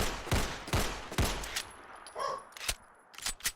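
Borchardt C-93 antique pistol mod firing in Fallout 4: three sharp, evenly spaced shots ring out early, then a mechanical reload-like clatter and a few lighter clicks and taps follow, with no talk.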